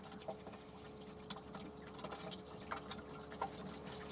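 Fuel mixed with clear condensation water drains and drips from a military truck's tank, a steady quiet trickle with scattered drops and no talking.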